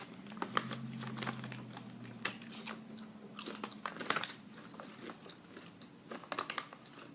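Someone bites and chews a crunchy raw vegan whole grain cracker made with quinoa, flax and sesame, giving close, sharp crunches and brittle snaps in an irregular rhythm over a faint low hum.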